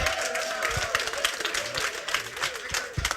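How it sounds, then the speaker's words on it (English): Applause from the congregation at a memorial mass, scattered claps from a crowd with voices mixed in, moderately close and uneven. "Give them a round of applause"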